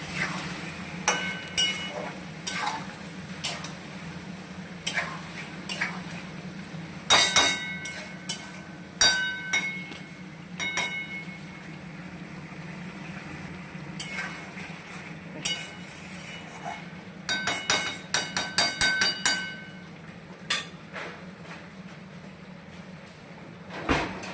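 Poppy-seed chicken (posto chicken) being sautéed and stirred in a pan, heard as sporadic sharp metallic clinks and clatters of a utensil and lid, with clusters of rapid knocks over a quiet low background.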